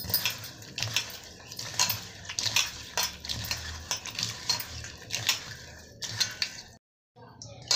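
Water stirred into jaggery in a bowl for rice-flour jaggery bondas, with close, irregular scraping, clinking and splashing strokes that run steadily, then stop briefly near the end.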